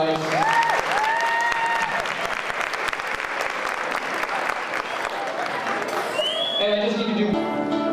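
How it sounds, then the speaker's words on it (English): Audience applauds a children's choir at a Helen Steiner Rice Christmas concert with continuous loud clapping throughout, accompanied by scattered voices and whoops, and some talk near the end. "please give a round of applause"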